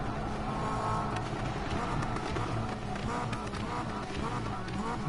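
A car engine drones steadily during a drag race in Need for Speed Payback, a continuous mid-level roar with faint tire noise and a voice talking over it.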